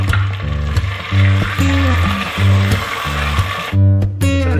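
Chicken frying in a clay pot gives a loud, close sizzle over a strong low repeating hum, with stirring strokes and clatters breaking in at intervals.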